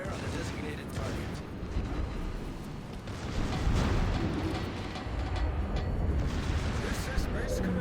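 Naval artillery in a warship video game fires on a target as a rumbling, booming barrage under continuous radio-style game chatter, loud and dense throughout.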